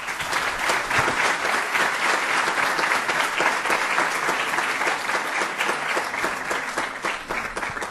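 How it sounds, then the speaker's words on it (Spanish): Sustained audience applause fills the room at the close of a literature-teaching panel at an international conference, a dense, steady wash of many hands clapping, loud and even throughout with no voices above it. "el aplauso y el agradecimiento total es para ustedes"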